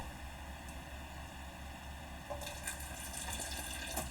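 Liquid, at least a quart of broth, pours into Southern cornbread dressing cooking over low heat, a steady watery rush that grows louder and splashier partway through, with no talking.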